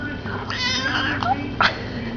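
A house cat meows several times in short, drawn-out and rising calls, close and fairly loud, with a low background hum and a person's voice nearby.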